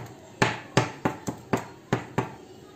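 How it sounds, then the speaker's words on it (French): A fork pricks holes in mini pizza dough with seven sharp, evenly spaced taps close up, each a quick tap on the surface beneath. "je vais faire des petits trous avec une fourchette sur toutes mes pizzas"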